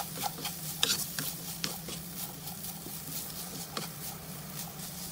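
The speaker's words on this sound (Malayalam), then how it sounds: "അതിനുശേഷം നമുക്ക് സവാള ചേർത്ത് വഴറ്റിയെടുക്കാം" Onion sautéing in a pan with ginger, garlic and green chili gives a faint, steady sizzle, with soft clicks and scrapes of stirring scattered through it.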